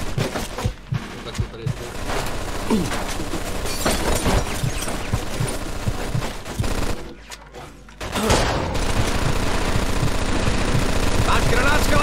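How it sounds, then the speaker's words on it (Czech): Sustained machine gun fire in the Mafia 2 video game, long rattling bursts of automatic shots with a brief lull near the middle, while a voice talks over the gunfire. "Asi jsme našli kulomet!"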